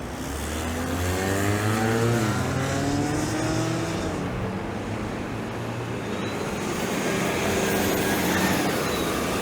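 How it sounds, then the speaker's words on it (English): Noisy city bus on a Toronto street pulling away from a stop, its engine roaring loudly with rising, shifting tones that fade slightly as it moves off, then steady traffic rumble. "We'll let that noisy bus get out of the way."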